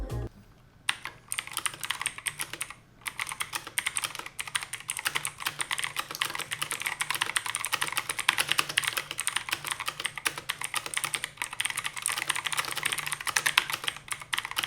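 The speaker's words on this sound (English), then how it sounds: "Being a clicky switch, you hear that click clack on these that a lot of people love." Fast typing on an Ant Esports MK1200 mini 60% mechanical keyboard with blue clicky switches, a dense, continuous stream of close, crisp click-clack keystrokes after a brief pause near the start.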